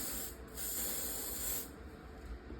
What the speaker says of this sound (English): now you're gonna go back in with your holding spray